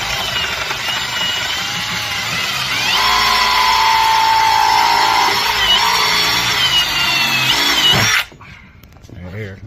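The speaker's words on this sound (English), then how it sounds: "You gotta bring your drill down." A power drill bores into a pipe with a loud, sustained whine that shifts in pitch under load and then cuts off abruptly near the end, with voices around it.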